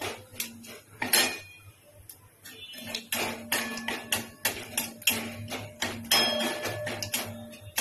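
Metal spoon or spatula clatters and scrapes steadily against a pan while cardamom, cloves, cinnamon and cumin are stirred, a busy run of close, sharp clinks and taps with a low background hum.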